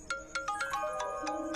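A mobile phone rings for an incoming call, playing a bright melodic tone pattern of rapid repeated notes. The ringtone sounds close and clear over a quiet room.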